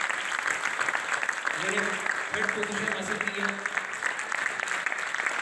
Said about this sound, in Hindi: बहुत सारी तालियां रुकनी नहीं चाहिए